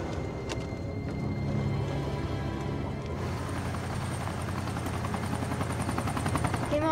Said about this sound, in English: I think it's a chopper.